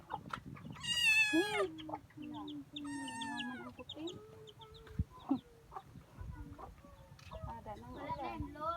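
A chicken clucks and calls in short bursts on a farm, with a higher squawk near the start, while people talk intermittently nearby.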